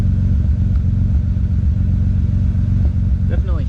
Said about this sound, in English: Definitely hear a slight misfire.